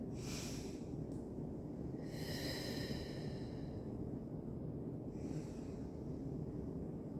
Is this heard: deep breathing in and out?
yes